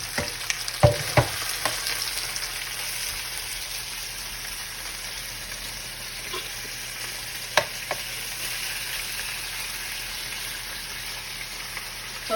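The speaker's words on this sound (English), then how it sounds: "I'm gonna add some more stock to my rice, and it is a basmati rice." Basmati rice cooking in stock in a pot: a steady, even sizzle and bubbling hiss throughout, with a few brief clinks near the start and later, and no talking.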